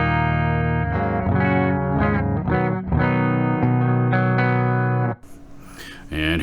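Dry electric guitar played through a cabinet impulse response, bright sustained chords and riffs ringing out for several seconds before cutting off, with a short voice at the end.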